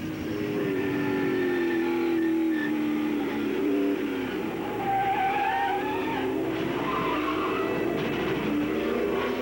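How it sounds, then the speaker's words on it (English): A race car without brakes entering turn 11 at Sears Point during the 1995 Budweiser 200, with a loud, steady engine drone and shifting pitch, plus faint tire noise under it as the car slides and spins out. "Right, Benny, he did a good job there not to hit anything if he didn't have any brakes coming into that turn"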